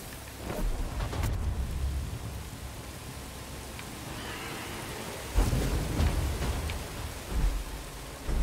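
Rain and rolling thunder from the Star Wars Jedi: Fallen Order video game, a steady downpour with deep rumbles swelling early, then louder thunder cracks building later, with no talking.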